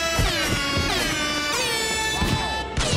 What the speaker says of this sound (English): many would just make the air horn noise with their mouth all the time